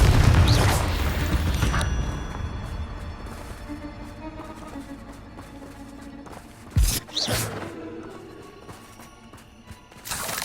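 A Confringo fire spell blast goes off in Hogwarts Legacy, a sharp booming burst near the middle with a rumbling tail, set among quieter ambient game sounds and scattered mechanical clatter.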